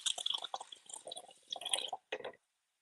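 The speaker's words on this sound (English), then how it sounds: "I'm just going to put coffee in it instead of water." Cold leftover coffee poured into a blender jar for a peanut butter cup smoothie, a near, splashy trickle for about two seconds, then a short final splash and silence.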